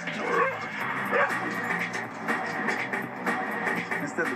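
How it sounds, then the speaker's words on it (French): A pack dog on a leash in a training session gives repeated yips and whimpers with short bark-like bursts, fairly close and fairly quiet. "César commence par leur présenter un chien de sa meute, Molly."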